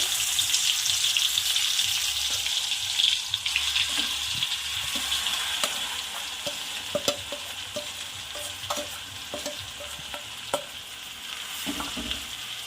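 Red chilli and garlic thecha crackling in hot oil with cumin as it's stirred, a continuous close sizzle punctuated by scattered sharp pops and spoon scrapes.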